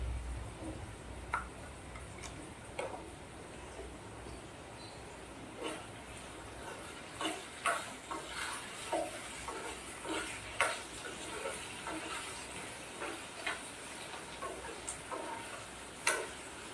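Boiled pasta and chopped vegetables are stir-fried in a pan, a soft background sizzle broken by frequent clicking and tapping utensil strokes against the pan.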